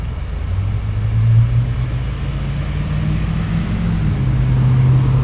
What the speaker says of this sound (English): It's equipped with a 390 overhead valve V8 Cadillac motor